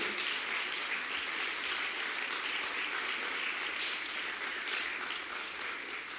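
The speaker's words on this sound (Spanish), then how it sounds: "Dele una ofrenda fuerte de palmas al Señor." A church congregation claps steadily throughout, a dense, even wash of applause at moderate distance with no voices breaking through.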